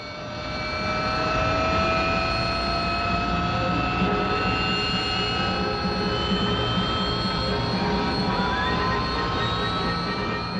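Sustained high-pitched whine of a Kestrel jump jet's engine while it hovers, loud and steady throughout with rising and falling tonal streaks over a dense roar.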